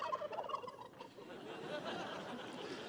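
A turkey at the White House Thanksgiving pardon gobbles loudly in a quick rattling burst, then crowd murmur carries on in the background.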